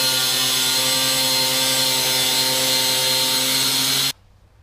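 A power tool cuts steadily through the sheet-metal body panel of a Chevrolet Nova during quarter-panel removal, a loud continuous whining grind with strong tonal hum that runs for about four seconds and then stops abruptly.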